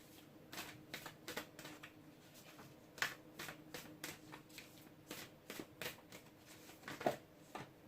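A tarot deck is shuffled by hand at close range, soft riffling bursts and card flicks repeating in an uneven rhythm, fairly quiet and with no talking.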